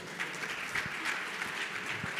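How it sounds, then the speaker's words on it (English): An audience at the 2025 ICMC ADR conference ceremony applauds with steady, moderately loud clapping that sounds like a room-sized crowd, continuing evenly without a break. "Please, another round of applause for them, please"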